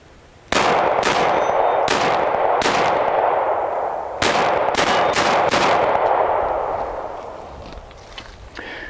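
Beretta Nano 9mm pistol fired in quick succession, sharp loud reports in two strings of four or five shots each, with ringing decay between them, then fading quiet.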